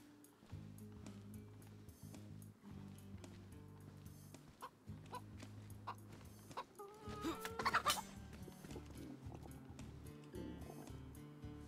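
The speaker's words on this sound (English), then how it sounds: "Where's the chicken?" A chicken in the DayZ video game clucks in short repeated bursts, mostly quiet and close, with a denser flurry of clucks near the middle over faint background game noise.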